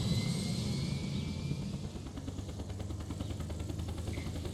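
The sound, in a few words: Apache helicopter taking off in a video game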